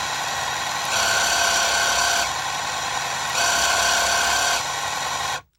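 The electric motor of an LDR/C 86 radio-controlled Toyota Trueno AE86 model car runs at full throttle as a steady, loud, high whine. The pitch rises twice in longer surges, then cuts off abruptly at the end.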